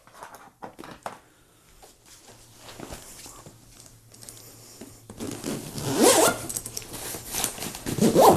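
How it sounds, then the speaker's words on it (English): The zipper on a large format camera backpack is drawn closed, first with a few faint clicks and rustles, then a loud, close run of rasping zip strokes near the end. "Let me zip this up."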